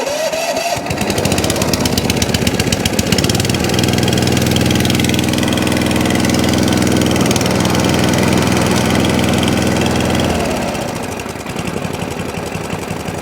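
A Sovereign SV150 lawn mower's small petrol engine fires up on electric start, then settles into a loud, steady, close-up running drone with a rapid chugging pulse that drops in pitch near the end.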